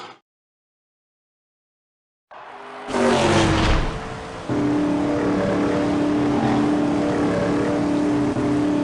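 Animated race cars in the Wreck-It Ralph race roar in after a brief silence, with a loud revving burst followed by a sustained, steady engine drone that holds to the end.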